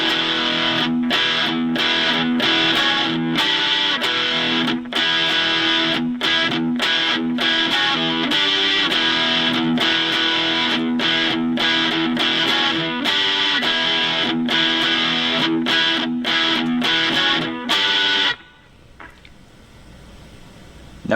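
An electric guitar with heavy distortion plays a driving intro riff, steady chugging rhythmic strums for about eighteen seconds, loud and close, then it stops abruptly.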